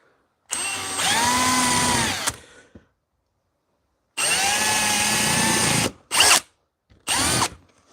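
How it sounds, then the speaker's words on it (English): A power drill bores four holes into timber in four bursts, two long runs followed by two short ones, loud and close with silent gaps between. "So now we have to drill 4 holes here."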